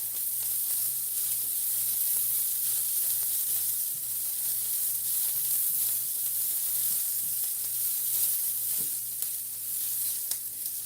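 Vegetables sauté in a pan with a constant, even hissing sizzle at moderate volume, steady throughout with only occasional faint stirring taps and a low hum beneath.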